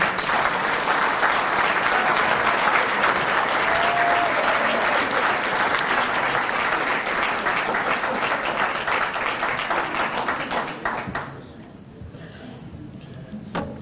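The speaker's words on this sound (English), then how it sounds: "So can we have a big round of applause for Jack Brewer?" Sustained applause from a large conference audience, a dense wash of clapping that fades away toward the end.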